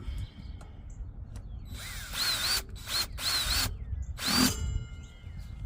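A power drill tightens the front rack bolts on a Surly e-bike, with three or four short close whirring bursts and pauses between them.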